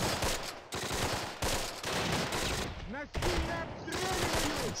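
Heavy gunfire in the Close Combat: The Longest Day video game, with dense continuous bursts of rifle and machine-gun fire coming from several directions, broken by brief gaps, while a voice talks over part of it.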